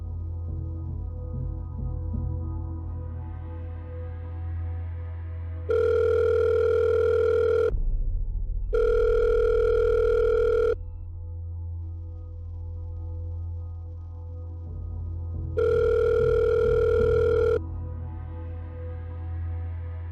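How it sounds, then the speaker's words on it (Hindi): A telephone ringback tone heard while calling a number: three long, loud ringing bursts of about two seconds each, with pauses between them, over a steady low hum and no talk. "एक काम करते हैं, इस नंबर पे कॉल करके देखते हैं।"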